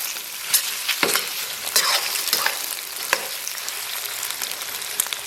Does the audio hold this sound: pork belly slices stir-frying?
yes